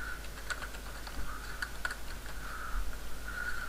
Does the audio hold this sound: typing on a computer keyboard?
yes